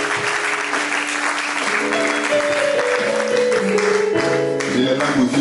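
Church congregation applauding and cheering together at a morning service in Nantes, a steady broad wash of clapping with voices and some tonal sounds rising through it, loud and sustained throughout.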